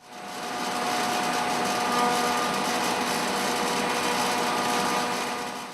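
Wood board fed through a thickness planer, a steady loud machine whine with broadband cutting noise that holds evenly for several seconds, running alone without talk.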